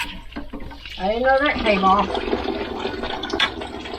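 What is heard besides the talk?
water running while washing juicer parts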